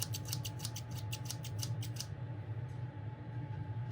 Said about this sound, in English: Those sound like kitchen scissors.